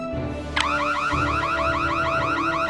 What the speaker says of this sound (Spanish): ¡El dueño activó la alarma!